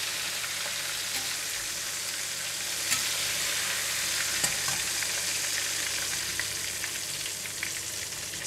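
Prawns frying in hot oil for kam heong prawns make a dense, even sizzle that runs steadily throughout, with a few faint taps from utensils and no voices.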